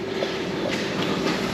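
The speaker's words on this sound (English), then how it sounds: "So I can see the train approaching." Train approaching a platform at a UK railway station, a steady broad rumble with faint rhythmic wheel clatter, continuous and moderately loud with no talking.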